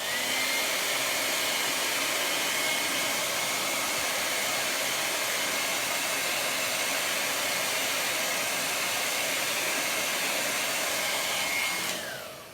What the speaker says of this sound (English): you're going to hear my dryer for just a couple of seconds while I dry the castle